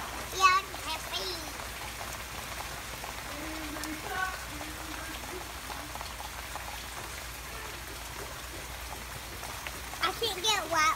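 Steady rain patters on a child's Minnie Mouse umbrella, a constant hiss of drops running through the whole stretch, while children chatter and talk over it.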